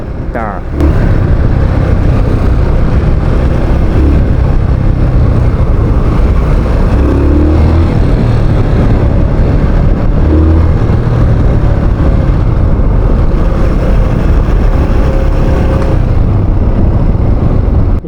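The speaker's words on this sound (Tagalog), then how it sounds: "yung tunog ng makina na ito kapag ka mainit na eh" A warmed-up Honda TMX 125 motorcycle engine idles loudly and steadily close by, a continuous rough rumble running throughout with no voices.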